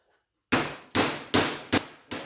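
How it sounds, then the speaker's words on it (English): Hammer blows ring out on the edge of an 18 gauge steel panel shaped over a pipe: five sharp, loud metallic clangs spaced roughly half a second apart, each decaying quickly, after a brief silence. "I'll just go right along this edge here"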